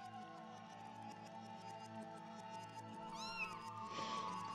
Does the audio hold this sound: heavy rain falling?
no